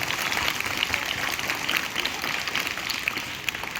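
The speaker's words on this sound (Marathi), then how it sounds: "आपल्या टाळ्या आज नेहमीपेक्षा जोरात वाजल्या पाहिजे" An audience claps to honour soldiers, a continuous mid-level wash of applause with a scattered, uneven texture and no talk over it.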